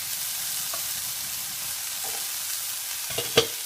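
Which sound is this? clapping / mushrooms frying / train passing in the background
mushrooms frying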